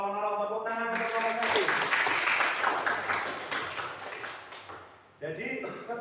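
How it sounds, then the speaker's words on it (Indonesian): A class applauds a student group in a lesson on faith in the messengers, with a burst of clapping that starts after a brief moment of speech, runs for several seconds and fades before talk resumes. "Tepuk tangan untuk kelompok"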